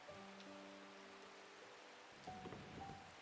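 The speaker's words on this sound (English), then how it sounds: "I love rainy days in games just because I like the sound of the rain." Steady rain falls in the herbalist shop puzzle game Strange Horticulture, a soft continuous hiss layered with low sustained music tones and a few quiet patters.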